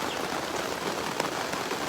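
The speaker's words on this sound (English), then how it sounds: "Listen to that rain." Steady rain patters on surfaces at a chicken farm, a close, even hiss of drops with no voices.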